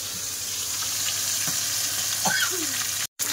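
Fish pieces fry in hot oil, a continuous close sizzling hiss with a few soft clinks and scrapes of a utensil, and a brief cut near the end. No one speaks.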